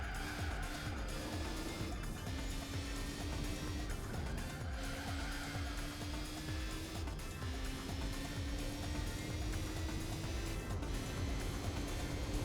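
A race car engine at the Nürburgring in the video game Gran Turismo 4 drones steadily, its pitch climbing through each gear and dropping back at every shift in a repeating pattern, with no talk.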